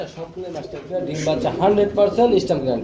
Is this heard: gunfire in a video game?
no